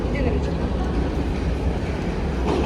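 Paris metro train running past, a steady loud rumble and rail noise filling the space, heard close on a platform or in the station throughout.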